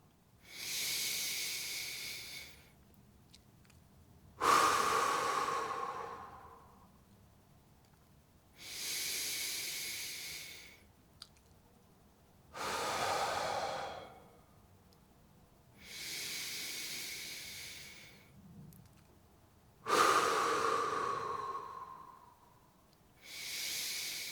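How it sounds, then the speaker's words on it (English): Slow, deep breaths during a gentle bed mobility exercise routine: six long airy inhale and exhale bursts spaced by quiet pauses, close and fairly soft, with no talking. "Deep breaths. Slowly out."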